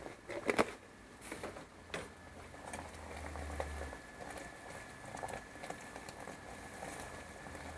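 Raw mango pickle stirred in bubbling sugar syrup in a pan: faint, irregular scrapes and soft tapping over a quiet simmering patter.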